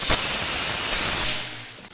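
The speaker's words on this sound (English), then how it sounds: "Spray a little air down here." A loud burst of compressed air hisses steadily for about a second, then cuts off and fades.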